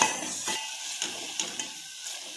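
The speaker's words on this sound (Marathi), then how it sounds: "या मसाल्याला छान तेलामध्ये फ्राय होऊ द्यायचा आहे।" Coconut spice masala frying in oil for a fish curry, a dense continuous hiss with a few light stirring scrapes against the pan, close up and without any talking.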